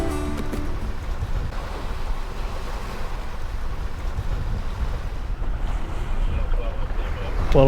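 A sailboat running downwind on open sea in the British Virgin Islands, with steady rushing water and surf along the hull, gusting wind buffeting the microphone, and a continuous loud wash that swells slightly toward the end.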